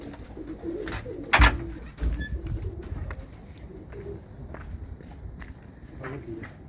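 Pigeons coo softly inside a loft, several low calls scattered across a quiet background, with shuffling footsteps and a sharp knock nearby and a faint voice now and then.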